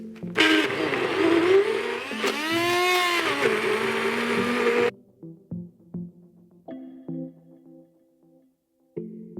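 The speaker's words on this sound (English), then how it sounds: "I'm going to use my hand blender and blend that up now." A handheld stick blender whirs loudly while blending a sauce in a big bowl, its motor pitch rising and falling for about five seconds, then stopping, followed by quiet clatter and kitchen handling noises.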